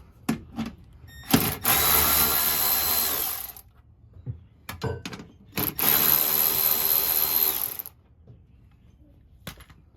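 Power tool spinning out two 10mm bolts on a Toyota Tundra front panel, heard as two loud sustained bursts of a few seconds each, with clicks and handling noise between them and no talk.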